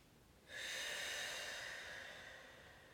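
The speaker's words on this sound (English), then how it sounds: "We'll take 3 rounds of breath here." One slow, deep breath during a beginner yoga forward fold, a soft airy exhale that swells in and then fades gradually, close and quiet.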